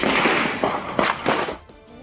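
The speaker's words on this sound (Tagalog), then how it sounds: "Dinig ang magkakasunod na putok ng baril" Successive gunshots ring out during a police buy-bust operation that turned into a shootout in Sultan Kudarat, Maguindanao del Norte, several loud sharp cracks in quick uneven succession, then a quieter tail.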